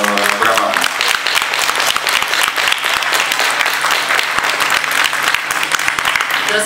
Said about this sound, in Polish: Państwo mogą podziękować najlepiej, bo brawa.